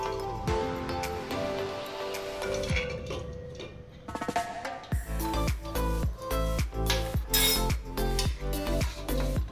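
Boiled eggs lifted one after another with a ladle into a pot of cold water: light clinks and clatters of metal against the vessel with splashing, growing busier and more rhythmic toward the end.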